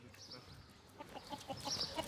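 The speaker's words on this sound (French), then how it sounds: "ces poules-là, elles sont particulièrement malignes" Hens and a rooster cluck in a farmyard, giving faint, scattered short clucks and calls that grow a little busier toward the end, under low background noise.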